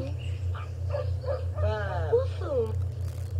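Cartoonish dog barks and yips from The Sims 2 game, a quick series of short bursts followed by a whiny, pitch-sliding whimper, heard over a steady low hum and background game sounds.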